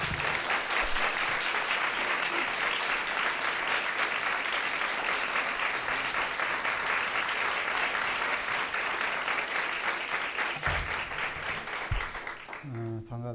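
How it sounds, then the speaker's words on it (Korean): Church congregation applauding to welcome a pastor at an evangelism festival in Milan, a long, loud, steady wall of clapping that fades near the end as a voice begins speaking. "김동호 목사님 나오실 때 뜨거운 박수로 환영하겠습니다."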